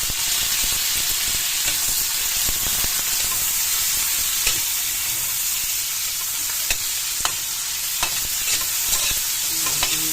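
Garlic, onion and tomato sauté in a pan for adobong kangkong, giving a loud, even sizzle throughout with occasional faint clicks of stirring.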